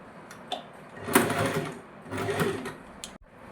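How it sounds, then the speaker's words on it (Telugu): Sewing machine stitches a folded edge on a plain blouse in two close, whirring runs, each rising and fading with a brief pause between, and a soft clack at the end. "నేను మిషన్ పైనే కుట్టేస్తాను."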